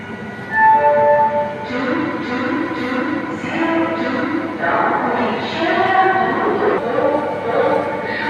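A train at Sealdah railway station with rumbling carriages and a horn-like tone over a busy platform hum, with people talking nearby throughout.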